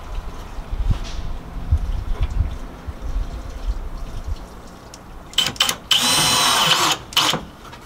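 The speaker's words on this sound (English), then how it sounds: "Thought you forgot how to use a drill for a second there." A power drill whirs in short bursts near the end, loud and close, with a sustained run of about a second following quieter handling noises; no talking.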